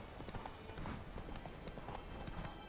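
Horse hooves clip-clop steadily at a walking pace in The Witcher 3: Wild Hunt game, a faint rhythmic clatter over a dense game-world background.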